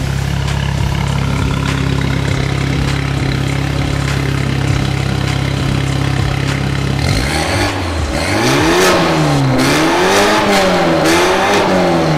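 BMW F30 fitted with an aftermarket exhaust, valve open, idling with a deep steady rumble before several loud close revs that swell and drop in pitch.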